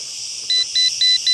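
An EMF meter at a German war cemetery emits a run of four short, evenly spaced electronic beeps over a steady high-pitched tone, close and clear, with no voices.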